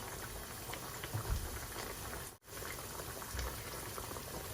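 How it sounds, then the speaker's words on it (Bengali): Curry with bay leaves simmering in a pot on the stove, a steady bubbling hiss throughout with a brief dropout midway, no voices. "আমি এখন বাহরা পাতা দিয়া আর 5 মিনিট আমি জাল দিব"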